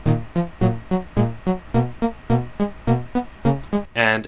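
Saw stab synth instrument in a Roblox BeatMerger sequence, sounding as a rhythmic run of about twelve short, punchy stabbed notes with buzzy harmonics, evenly spaced and loud, with no voices.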